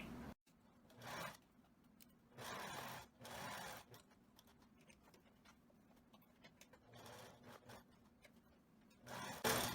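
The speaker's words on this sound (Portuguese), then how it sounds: "Eu vou fechar com a costura reta o elástico." Sewing machine running short straight-stitch bursts while closing a seam on wide elastic, with back-and-forth reverse stitches; several separate whirring runs separated by pauses, close and moderately quiet.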